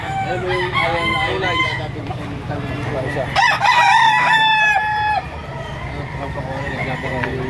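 Gamefowl roosters crow repeatedly at a busy market in Lipa, Batangas, several long cock-a-doodle-doo calls overlapping near and far over clucking and crowd murmur.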